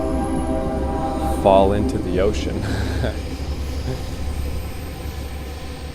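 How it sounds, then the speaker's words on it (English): A small passenger train passes by outdoors near a log in the woods, a steady low rumble running throughout, with a person talking over it. "Little passenger train going by."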